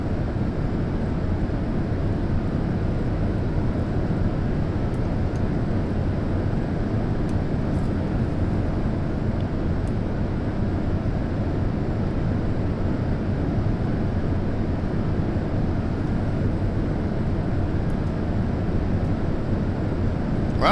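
Steady, loud roar of the jet engines on a B-47E Stratojet in flight in a flight simulator, continuous and unchanging, with no talk.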